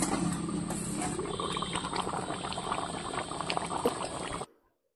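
Chicken curry broth with fried potatoes bubbles in a pot, a soft, steady simmering and popping that cuts off abruptly just before the end.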